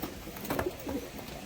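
Pet Madras pigeons, a mated male and female, give soft low coos, a few quiet rounded calls close by with no talking.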